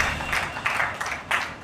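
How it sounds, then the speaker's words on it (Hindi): An audience at a Jat Day seminar and honoring ceremony in Vasant Kunj claps in quick bursts of moderately loud applause that rise and fall. "एक बार फिर भाई तालियां जोरदार हो जाएं"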